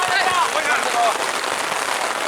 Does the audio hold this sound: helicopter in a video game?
no